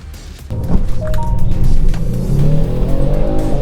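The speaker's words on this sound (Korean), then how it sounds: "자, 론치 컨트롤러 출발했고요" A car launches hard under launch control on a test track during a summer versus all-season tire comparison, its engine roaring up loudly and steadily for a few seconds with no talk over it.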